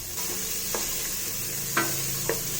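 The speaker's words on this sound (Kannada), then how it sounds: "ಈರುಳ್ಳಿ ಫುಲ್ ಫ್ರೈ ಆಗಬೇಕು" Chopped onions sizzle steadily in a hot pan while a spoon scrapes and stirs them in a few distinct strokes, close and fairly quiet, with no talking.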